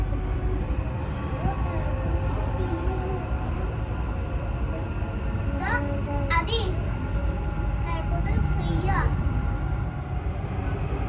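Dubai Metro train rolling into the Airport Terminal station with a continuous heavy rumble and rail noise, brakes squealing in rising and falling whines partway through, while a voice and other chatter carry on inside the carriage.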